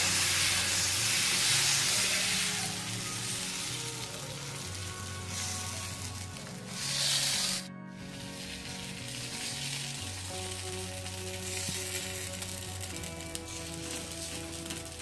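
Dosa batter frying in oil on a pan, a loud continuous sizzle and hiss close by, briefly cut near the middle and then resuming steadily without speech.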